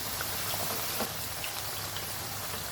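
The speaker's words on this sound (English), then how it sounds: "And here I'm frying potatoes." Potatoes frying in a pan give a dense, steady hiss and crackle of hot oil, continuous and close with faint pops throughout.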